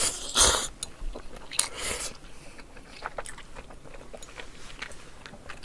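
Crunchy cartilage in boiled pork bossam being chewed up close, with a few sharp crunchy bites early on followed by softer, continuous mastication sounds, and no talking.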